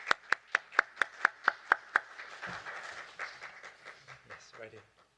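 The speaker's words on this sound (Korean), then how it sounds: "우리 뜨거운 박수로" An audience at a peace academic conference applauds to welcome Clara Park, with a run of about ten sharp, evenly spaced claps first, then softer scattered clapping under talk.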